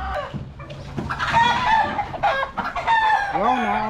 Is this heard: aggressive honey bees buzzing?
no